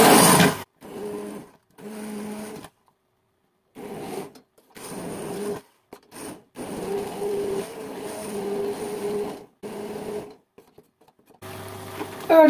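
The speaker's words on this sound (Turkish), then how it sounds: "Hemen blenderımızı çalıştırıyoruz." A kitchen blender whirs through cooked tomatoes in loud, steady bursts separated by short pauses, the motor droning at an even pitch with no voices.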